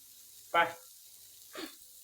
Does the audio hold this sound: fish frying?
yes